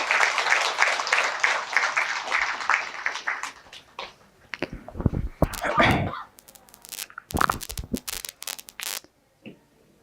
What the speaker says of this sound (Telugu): మన జగద్గురు బ్రహ్మర్షి పితామహ పత్రిజీ గారికి గట్టి క్లాప్ చేద్దాం.